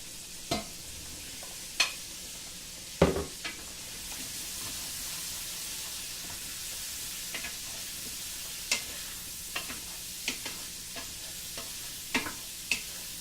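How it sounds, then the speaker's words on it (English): Cherry tomatoes cook in a pan with a soft, continuous sizzle and hiss, punctuated by occasional sharp clicks and taps of a utensil against the pan, close by with no talking. "We're also going to add our little cherry tomatoes so that they cook all the way through."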